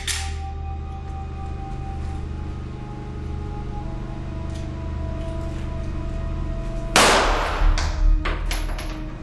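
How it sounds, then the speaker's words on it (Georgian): A Norinco-type firearm is test-fired during a forensic reenactment: one sharp, loud shot rings out abruptly, followed by a few softer bangs and clatters over a low background hum. "ყურადღება, მიმდინარეობს გასროლა."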